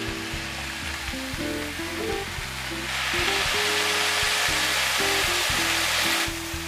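Sliced green beans stir-fried with spices in a pan, a steady loud sizzle with scraping stir strokes throughout, the frying growing brighter and hissier midway; no talking.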